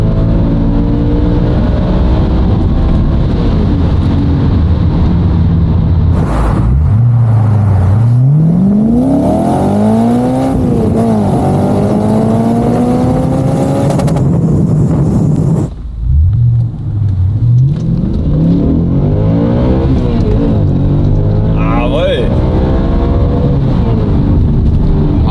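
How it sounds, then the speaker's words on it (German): A high-mileage Audi RS4 B7 V8 revs repeatedly, climbing in sweeping rising pitch and bouncing off the rev limiter, loud and close with no talking. "Also der RS4 B7 Begrenzer ist mit einer der schönsten Begrenzer, die es gibt."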